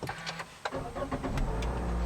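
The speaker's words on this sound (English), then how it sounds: "push the button here to start the engine" A 2015 Toyota Corolla's engine is started with a push button: a short crank catches after a few soft clicks, then settles into a close, steady idle rumble.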